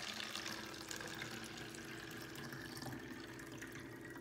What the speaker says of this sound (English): we are going to take our eight ounces of water and we're going to pour it into our soda bottle